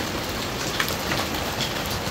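Hard pellets of hail pour onto a house roof in a heavy hailstorm, a dense, steady rattling patter with occasional sharper impacts, no voices.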